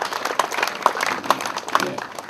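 Audience applause for a local-born field supervisor at a Bojonegoro civic gathering, a dense wash of clapping hands with steady scattered sharp claps throughout, fairly loud and close, with a faint voice mixed in.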